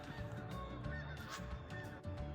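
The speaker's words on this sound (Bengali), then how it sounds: "পাখির আওয়াজ পাওয়া যাচ্ছে টেম্পারেচার একটু ভালো হতেই ওরাও বেরিয়ে পড়েছে" Geese honk outdoors beside a balcony in mild weather in the United States, several calls overlapping amid other birds and steady background noise, fairly distant and continuous.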